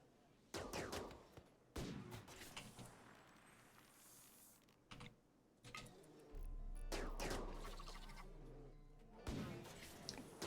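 Bursts of gunfire from a colonist shooting in RimWorld, several sharp volleys and rapid shots in clusters separated by short pauses, fairly distant and crisp, with a sustained low rumble under the later bursts.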